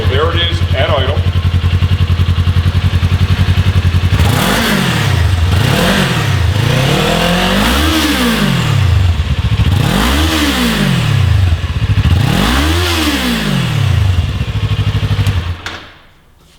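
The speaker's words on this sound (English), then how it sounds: "Before we begin the exhaust install, let's start with our stock exhaust note." A stock-exhaust Kawasaki Ninja 400, warmed up, idles in a low steady burble close by, then revs sharply five times in rising-and-falling blips before cutting off.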